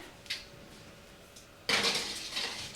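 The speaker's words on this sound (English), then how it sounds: "I'm just gonna throw this into the oven." A baking dish of hasselback sweet potatoes slid into an oven, a quiet clink early on and then a sudden louder clatter and rattle of the dish and oven rack that continues to the end.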